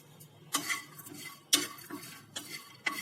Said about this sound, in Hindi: नमक स्वाद अनुसार ये डाल के और मैं इसको मिक्स कर दे रही हूँ